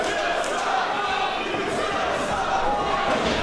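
A dense, loud indoor crowd at a professional wrestling show chanting in unison, a continuous roar of many voices filling the arena without a break.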